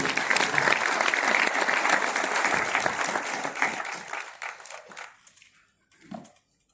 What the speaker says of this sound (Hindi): एक बार तालियां अपने लिए हो जाए।